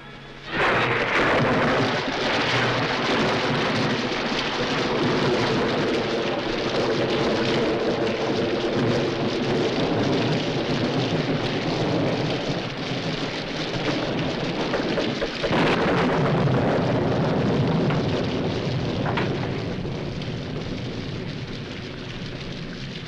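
Steady heavy rain pours down continuously, with rumbling thunder rolling underneath and a louder crack of thunder partway through.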